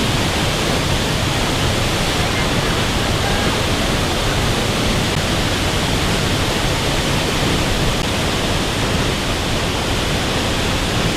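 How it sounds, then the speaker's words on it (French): A gently flowing waterfall in Costa Rica, a steady broadband rush of falling water that holds constant and fairly loud throughout, with no voices over it. "on a la cascade qui se trouve à ma droite et qui s'écoule doucement"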